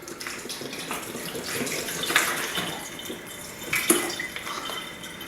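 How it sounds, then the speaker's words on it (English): Water glugs and splashes out of a bottle being emptied to a third full, a moderate, uneven pouring with a couple of louder gushes. "the first thing to do is to empty out the water until we have only 1/3 of the bottle left"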